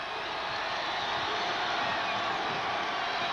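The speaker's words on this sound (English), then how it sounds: "The crowd is on its feet." Arena crowd at a high school/Iowa State Cyclones basketball game, a steady broad roar of cheering and shouting from many people, continuous and fairly loud throughout, with no distinct breaks.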